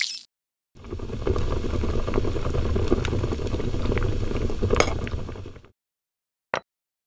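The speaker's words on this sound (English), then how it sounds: "Add lime and boil." A pot of strawberry jam mix with lime bubbles and simmers steadily for several seconds, a soft crackling boil with a few faint clinks, ending in a single short tap after a pause.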